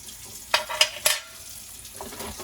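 Plates scrubbed with silicone scrubbing gloves: three quick, sharp scrubbing strokes close together near the start, then softer rubbing and faint clatter at close range.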